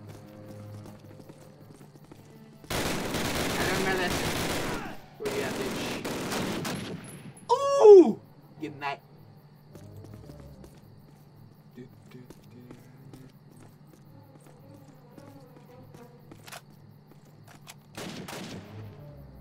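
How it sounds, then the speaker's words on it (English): Gunfire in Call of Duty 1 during the Bavarian Alps mission at a Nazi chateau: two loud, sustained bursts of shooting close by, then a sharp clatter and scattered fainter noises, with quiet talk near the end. "Why are you shooting, bro?"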